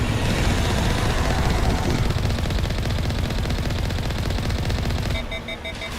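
Dense, rapid gunfire from a Mass Effect 1 battle pounds continuously at close range for about five seconds, then cuts down to a quieter electronic tone near the end.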